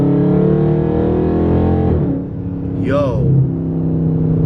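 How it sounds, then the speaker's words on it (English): A car fitted with a Legmaker True Cold Air Intake gives a steady engine drone, then a short rising rev as the gas is tapped, heard from inside the cabin while someone speaks over it. "So we are getting out a little bit, so I'm gonna tap on the gas"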